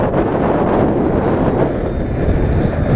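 A foam board flying wing model plane flies in high, gusty winds, its steady motor drone mixed with heavy wind rush buffeting the microphone throughout, loud and continuous.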